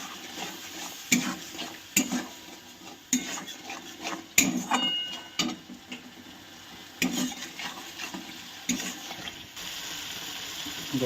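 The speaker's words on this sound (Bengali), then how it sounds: "এবার মশলাটাকে ভালো করে কষিয়ে নেব" Masala paste being fried and stirred in a pan for a Bengali potato-cauliflower dish: irregular metallic scrapes and clanks of a spoon against the pan over a low frying hiss, without speech.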